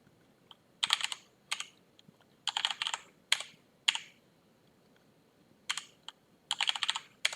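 Rapid bursts of keystrokes on a computer keyboard as terminal commands are typed during a PXE installation server setup on Fedora, close and clear, with short pauses between flurries and no talking.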